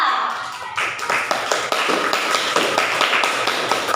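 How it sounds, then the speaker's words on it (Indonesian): Classroom students applaud a student group after its science presentation, a steady patter of many hands clapping that starts after a brief quiet moment and continues throughout at fairly close range. "Oke, beri tepuk tangan untuk kelompok 2."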